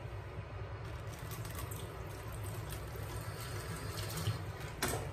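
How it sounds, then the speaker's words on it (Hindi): Hands washed under a running kitchen tap while cooking, a steady close rush of water with light splashing throughout and a brief clatter near the end. "मैं ये हाथ ज़रा धो लूँ"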